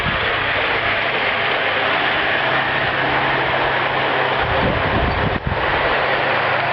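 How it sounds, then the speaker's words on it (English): A model Rio Grande GP30 locomotive pulling Bachmann rolling stock runs along its track with a continuous close rumbling whir, steady and loud, with a brief click near the end. "Now I hear the train coming."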